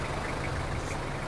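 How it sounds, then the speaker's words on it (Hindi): A 1992 Toyota Hilux 3L engine idles up close, a continuous low, slightly knocking rumble that holds level for the whole moment. "इंजन की साउंड आप ऑलरेडी सुन सकते हैं"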